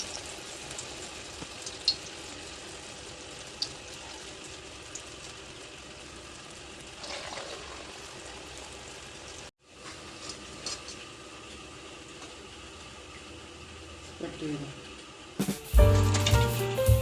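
Masala vada batter frying in hot oil in an iron pan over low flame gives a steady, fairly quiet sizzle throughout, briefly cut off near the middle and ending with louder clattering bursts.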